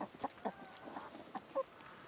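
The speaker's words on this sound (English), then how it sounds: "What are you doing in the trees, chicken?" Chickens cluck softly among trees on a farm with livestock, a series of short, fairly faint calls in an irregular rhythm, with no talking.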